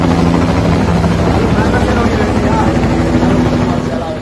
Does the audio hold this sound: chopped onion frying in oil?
no